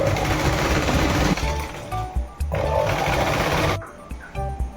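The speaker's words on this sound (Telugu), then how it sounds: "నేను టెన్ ఇంచెస్ వరకు ఒక లైన్ లాగా స్టిచ్ చేసేసుకుంటున్నాను" A sewing machine stitches a line on net fabric in loud close bursts of rapid mechanical whirring, stopping and starting several times with short pauses between runs.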